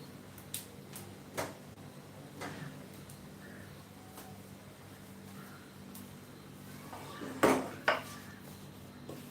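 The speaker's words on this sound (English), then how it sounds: "So I'm going to just stir a little bit." Chinese cabbage being stirred in a pan, quiet and sparse, with scattered clicks and clinks of a utensil against the pan and a louder pair of scrapes near the end, no voices.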